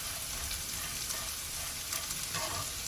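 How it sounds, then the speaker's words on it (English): Sambar masala frying in a pan, a dense continuous sizzle with faint stirring scrapes, steady and close for a few seconds. "add 2 tablespoons of this sambar masala and just fry it for a few seconds"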